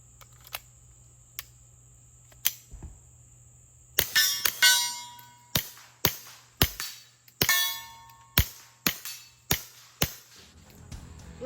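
Suppressed shots from a Smith & Wesson Victory .22 pistol with a Tandemkross Comet barrel, firing subsonic suppressor ammo: a few spaced light pops, then a quick string of about ten sharp, clattering reports with mechanical action noise, near and with no talk.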